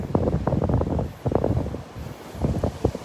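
Wind blowing on Delnor-Wiggins beach on a windy morning, a loud rough buffeting roar with gusty surges over the microphone and no talk.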